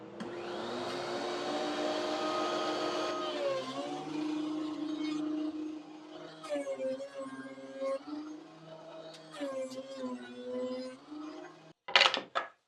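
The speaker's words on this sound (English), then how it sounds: "because this would be really short to send through the planer on its own" A thickness planer feeds a short piece of wood with a continuous loud motor roar that wavers as the board passes through, then a few sharp clunks at the end; no one speaks.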